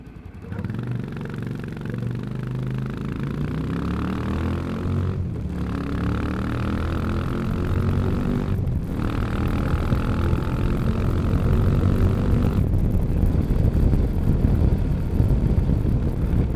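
A small motorcycle engine revs up and accelerates, its pitch climbing through several gear shifts, with wind rushing past throughout.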